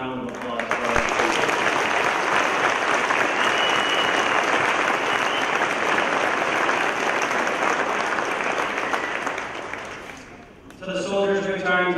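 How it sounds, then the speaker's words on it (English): An audience applauds at an Army retirement ceremony, a loud, sustained round of clapping that fills about ten seconds before fading out, followed by a speaker's voice starting up. "Please join me around in a round of applause."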